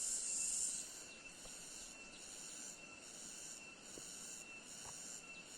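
Cicada-type insect buzzing steadily in the background, a faint continuous high shrill drone with pulsing bursts, no talking.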